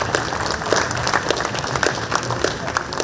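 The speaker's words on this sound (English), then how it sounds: "round of applause, guys. Come on." An audience claps at an expo inauguration held at NESCO, a dense, loud burst of applause with a few sharper individual claps standing out, filling the short stretch without pause.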